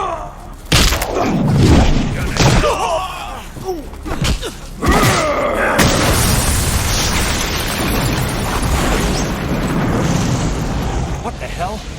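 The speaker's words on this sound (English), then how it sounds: "That explosion came from the shower room." An explosion goes off in a shower room during a Watchmen: The End Is Nigh game cutscene, loud booming bursts with rumbling debris that settles into a sustained roar.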